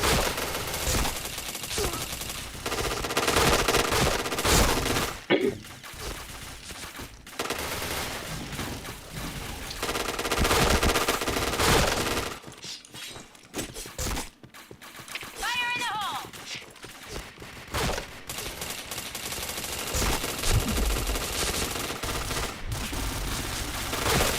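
Video game gunfire with headshots crackles in dense, rapid bursts and volleys over a busy loud mix, pausing briefly midway before the shooting resumes.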